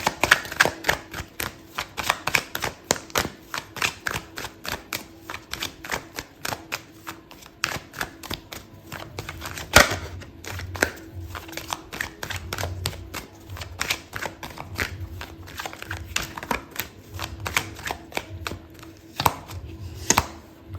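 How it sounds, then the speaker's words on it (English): Tarot cards shuffled and pulled during a reading, producing rapid crisp clicks and flutters with brief pauses and a few sharper taps, close and fairly loud. "I'm going to pull out another card for you."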